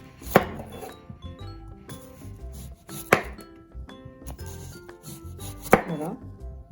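A knife slicing onions on a board for a homemade cough syrup, giving steady close chopping with three sharper strikes spaced a few seconds apart; no voices.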